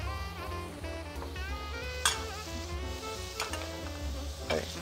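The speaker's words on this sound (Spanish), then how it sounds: "Vamos a remover un poco nuestros espaguetis." Spaghetti sizzles steadily in a frying pan while being stirred, a continuous close hiss broken by a few sharp scraping clinks of the utensil against the pan.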